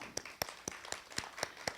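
Sparse, evenly spaced claps at a youth poetry recitation event, about seven sharp hits in a slow steady rhythm, fairly faint and close, like only a few people clapping.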